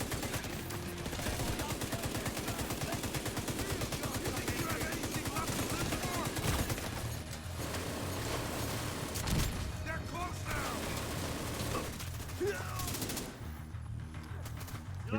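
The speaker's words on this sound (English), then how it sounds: "Minigun power restored." Sustained, loud minigun fire in the video game The Division 2, a continuous dense mechanical rattle with brief pauses and gunfire bursts, mixed with other game sounds.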